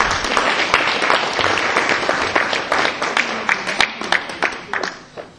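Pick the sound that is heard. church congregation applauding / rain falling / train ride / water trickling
church congregation applauding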